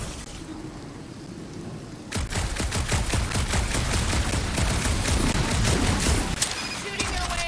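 Sustained gunfire erupts in the video game Guardians of the Galaxy, a loud rapid volley of shots starting abruptly after a quieter stretch and continuing to the end.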